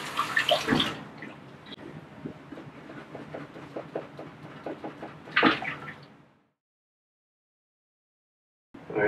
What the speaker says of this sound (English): it is a function of pushing and pulling the water in an attempt to open up the drain